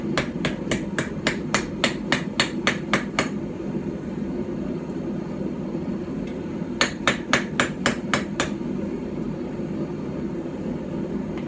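A small knife hand-forged with a hammer on a stump anvil in Anglo-Saxon or Viking style: two bursts of about ten quick, bright metallic blows each, separated by a pause, over a steady low background hum.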